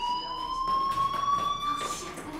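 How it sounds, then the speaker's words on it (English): A school fire alarm in the Life Is Strange video game rings as a steady, piercing electronic tone with bright overtones, holding without pause at moderate loudness. "Hey, do you hear that fire alarm? That means you should be outside."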